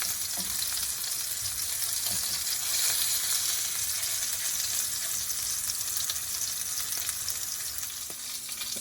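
Chicken pieces for a keto Thai chicken vegetable curry browning in a frying pan, giving a steady, dense hiss and crackle of hot oil that stays loud and close throughout with no voices.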